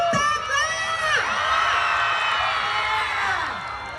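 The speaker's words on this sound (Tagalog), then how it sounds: "Magpalakpakan po may kasamang sigawan" A comedy show audience erupts in loud cheering and shouting, a dense crowd roar that holds for several seconds before easing slightly.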